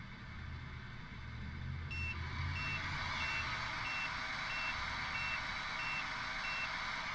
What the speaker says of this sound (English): So you hear the backup beeping.